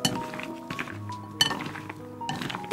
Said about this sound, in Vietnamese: Trộn đều tất cả lên nè.